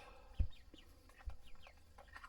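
Young chickens about five weeks old clucking and peeping softly in short chirps, faint and close, with a couple of low thumps and no talking.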